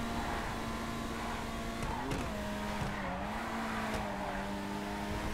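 A Benefactor Krieger super car in GTA Online drives at speed with a steady, high engine drone whose pitch shifts as it corners, joined by brief tire squeals, with no talk over it.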